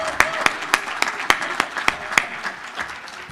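Audience applause at a US Coast Guard Auxiliary national event, a steady patter of many hands with sharp individual claps standing out in an even rhythm, moderately close and sustained throughout.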